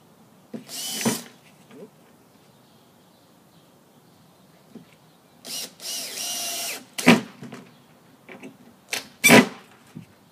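A Makita power drill drives screws into wood while a cornhole board is built, producing several short whirring bursts of about a second each with quiet gaps between them, heard up close.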